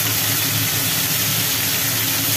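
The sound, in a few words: Bombay duck (lote) fish frying in hot oil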